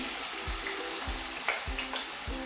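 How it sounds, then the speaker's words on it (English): Tomatoes and onion sizzle in hot oil in a pan, a steady bright hiss broken by regular soft thumps of stirring about every half second. "The oil is hot enough, so I'm going to add some tomatoes in"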